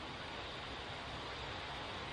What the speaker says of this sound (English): this goddamn beautiful hiss